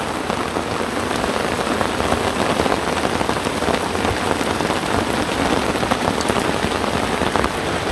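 Steady, dense rain patters close by on a bush tent, unbroken from start to finish with no voices.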